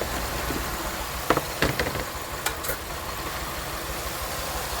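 A 2007 Pontiac Grand Prix idles steadily with its AC compressor engaged, giving a low continuous engine hum broken by a few light clicks and ticks.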